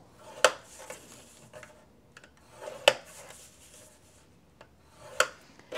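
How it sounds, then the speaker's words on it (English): A score tool scores paper for a treat box with three distinct scraping strokes spaced a few seconds apart, plus faint rubbing between them, fairly close and quiet. "we're going to score all around at 1¼ inch on both pieces"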